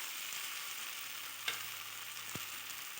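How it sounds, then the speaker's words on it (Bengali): Spiced fried cauliflower stirred in a pan, giving a steady close sizzle with a couple of brief scrapes or knocks from the spoon partway through. "আরও কিছুক্ষণ নেড়ে চেড়ে মশলাটা ফুলকপির সাথে মিশিয়ে নেব"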